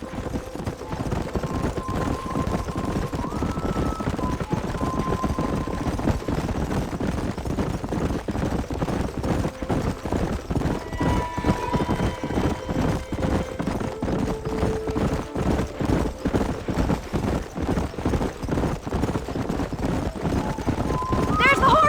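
Horses gallop in the Red Dead Redemption video game, a continuous fast clip-clop of hooves with an occasional whinny, running under voices talking throughout.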